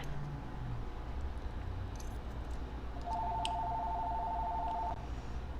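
A phone rings once during a locksmith job: a faint, steady electronic tone holds for about two seconds over a constant low rumble of background noise.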